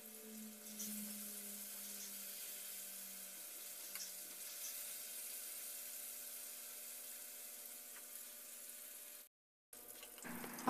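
Flour-and-pepper-coated galunggong fish fry in hot oil in a pan, giving a faint, steady sizzle with light crackling that cuts off briefly near the end before a soft clatter.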